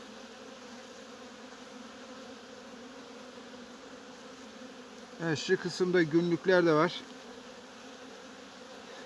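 Honeybees and robber bees hum around a weak hive during late-October checks before winter, a constant low buzz from start to finish with someone briefly talking over it.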